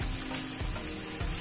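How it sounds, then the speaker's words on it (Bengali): Malabar spinach and mung dal fritters fry in hot oil, giving a soft, steady sizzle with faint crackles, fairly quiet and with no voices. "এখন উল্টিয়া পাল্টিয়া ভালো করে বড়াগুলা ভাজি নেই"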